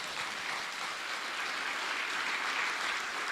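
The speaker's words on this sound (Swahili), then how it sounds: "Nipigieni makofi." An outdoor political rally crowd claps steadily, a dense, even wash of applause that holds at moderate loudness with no voices over it.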